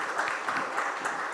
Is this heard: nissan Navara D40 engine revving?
no